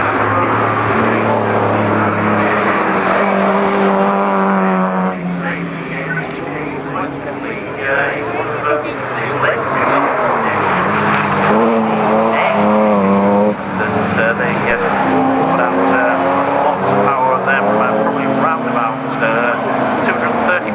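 Rallycross race cars, including a Mark III Ford Escort, roar and rev hard at the British RallyCross GP at Croft, engines rising and falling continuously and loudly under constant commentary.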